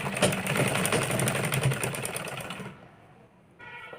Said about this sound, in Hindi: इस तरह से हम इसको राउंड राउंड सिलाई लगाते चले जाएंगे